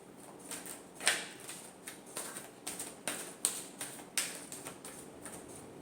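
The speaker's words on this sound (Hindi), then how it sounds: "Last shuffle." Tarot cards being shuffled by hand, a close, quiet series of crisp slaps and flicks in an uneven rhythm, with a few sharper snaps standing out.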